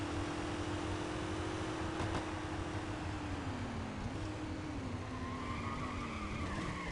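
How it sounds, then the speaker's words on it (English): Tires squeal as a GT3 sports car skids in a racing video game at Sardian Park, a steady engine drone running underneath a long, wavering screech. "And I crashed the car at the end because I'm an absolute moron."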